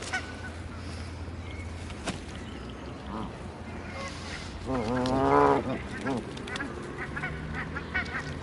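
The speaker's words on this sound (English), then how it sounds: "They look like Canadian geese, don't they, these?" Canada geese honking while they feed, a loud burst of calls in the middle over steady outdoor noise, with people talking nearby.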